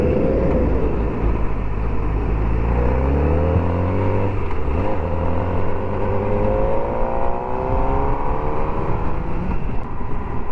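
A motorcycle rides and swings through a U-turn, its engine climbing and falling through gears in rising and dipping tones, loud and close from the rider's position throughout.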